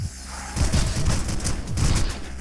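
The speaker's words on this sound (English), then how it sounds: "here's the double handgun that I was waiting for. This one's nice in that it shoots both directions" Video game gunfire from a double handgun firing both directions in Super Mutant Alien Assault, a quick run of clipped shots over a steady game-music bed with no voices.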